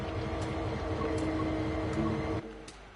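Electric multiple unit idling in Train Sim World 6, a steady loud hum with tonal whine and clicking that drops abruptly near the end, leaving a quieter low rumble.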